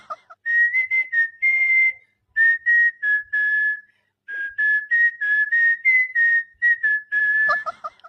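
A person whistles a melodic tune in short sustained notes and quick phrases with brief pauses between them, clear, close and alone.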